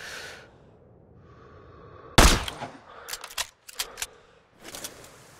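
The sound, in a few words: sniper rifle shot in Sniper: Ghost Warrior 3 video game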